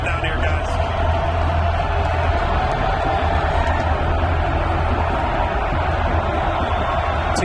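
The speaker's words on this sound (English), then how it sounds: "Now this crowd is getting cranked up here behind this Iowa State defense" Loud college football stadium crowd roaring behind the Iowa State defense against TCU, a dense, steady wall of noise that holds at full volume throughout.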